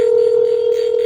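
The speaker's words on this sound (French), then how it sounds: "Ça sonne." A telephone ringing tone heard by the caller on a French call, one steady unbroken tone, loud and close, alone with no voice over it.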